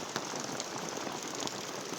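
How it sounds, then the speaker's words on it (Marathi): Steady rain pattering densely on a surface right outside a farmhouse door, an even wash of drops with occasional sharper splashes, no voices. "खूपच पाणी पाणी आता बघा आमच्या दारात एवढा चिक्कल होणार असा पाऊस आला"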